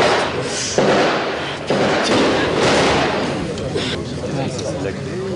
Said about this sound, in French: Il y a eu des rafales, vous les entendez certainement derrière, il y a quelques secondes.